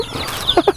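Farm chickens cluck in quick, close bursts as they are fed, a few sharp clucks in a row over a low background.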